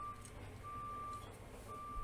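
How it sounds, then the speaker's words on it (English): Repeated high electronic reversing beeps from a garbage truck sound at a steady rhythm over a low engine rumble, moderately distant, outside a house. "there's a garbage truck outside the house"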